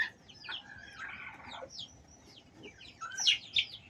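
Chicks and chickens, including Galandi fowl, heard as faint high peeping chirps and a few soft clucks in a quiet yard, with sharper cheeps near the end.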